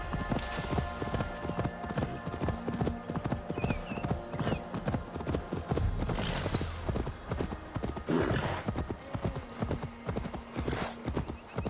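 Horse in Assassin's Creed Valhalla, steady rhythmic clip-clop of hooves on the ground with a couple of whinnies and snorts breaking through, close and fairly loud, brief voice underneath.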